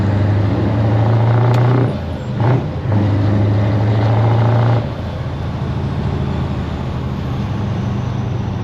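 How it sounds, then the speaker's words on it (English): A Scania 143 500 V8 truck rumbles deeply through its bottom exhaust pipes, a loud, close, steady low drone with a brief dip in tone partway through before settling back into an even idle. "I just like the deep rumble on the bottom pipes"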